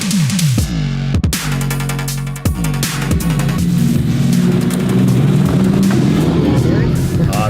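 A Mercedes-AMG sports car engine revs and accelerates away, pitch climbing through several gear changes, loud and close, with a voice briefly speaking over it.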